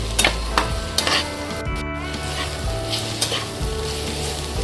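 Sliced onion sizzles and fries in a pan with a pinch of salt for an Agri-style cabbage and chana dal curry, a steady close hiss broken by a few scraping stirs and one sharp spatter burst, with no talking.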